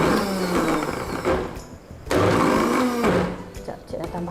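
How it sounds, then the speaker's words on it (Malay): A kitchen blender grinds canned sardines with a little water for Penang laksa, whirring loudly in bursts that stop and restart with short pauses, while someone talks over the motor. "So kita kisar."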